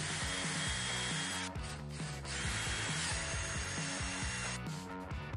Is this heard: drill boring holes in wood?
yes